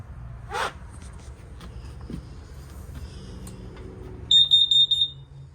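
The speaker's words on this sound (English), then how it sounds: "It also has a LP carbon monoxide detector in the unit." A high-pitched carbon monoxide detector alarm chirps in a quick burst of about five beeps near the end, inside a 2023 Forest River Salem FSX toy hauler camper, following a quiet stretch with a faint thump.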